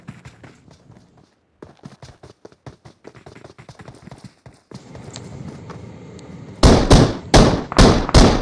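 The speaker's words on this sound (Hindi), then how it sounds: "आसपास मेरे गोलीबारी चल रही है" Gunfire in the PUBG Mobile game on a Poco X5 Pro phone: scattered light cracking shots at first, then a burst of loud, close heavy bangs near the end, with no talk.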